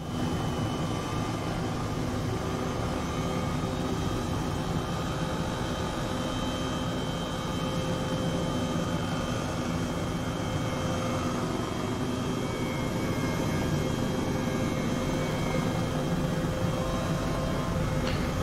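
A helicopter in Microsoft Flight Simulator 2020 drones with a steady, even turbine-and-rotor hum and hiss that holds unchanged for the whole stretch, with no talking.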